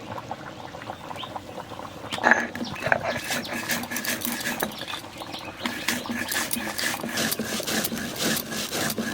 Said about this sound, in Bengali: জিরেটা বেটে নেবো